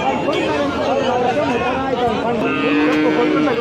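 Busy Punganur cattle market hubbub: overlapping voices and crowd chatter fill the air, with calves and cattle lowing among the noise.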